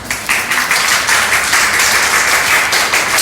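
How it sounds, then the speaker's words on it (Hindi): Congregation in a church service clapping steadily and loudly throughout, a dense, continuous round of applause with no speech over it. "ये ताली अच्छी लगती है जब यीशु मसीह की महिमा में बजती है।"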